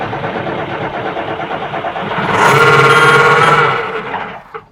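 A McCormick X7624 VT Drive tractor engine runs with a little air in the filters, its diesel idle rising into a louder, rougher surge with a whining tone before dropping off abruptly, close to the microphone.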